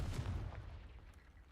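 A Confringo blasting spell in the game Hogwarts Legacy goes off as a quick, booming blast with a deep thump, fading into a short rumbling tail; fairly faint overall.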